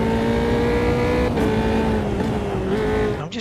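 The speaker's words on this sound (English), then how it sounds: "The sound of the engine is very much coming out of my rear speakers, much more than anything." Steady drone of a truck engine in Euro Truck Simulator, a constant low hum with sustained tonal harmonics that dip slightly as revs change, loud and close, then cutting off abruptly at the end.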